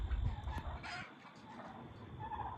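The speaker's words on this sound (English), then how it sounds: "of these chickens, my meat birds, being in the same spot" Meat chickens on a homestead clucking and murmuring close by on a cool morning, a steady low flock chatter with a few louder calls and no voices.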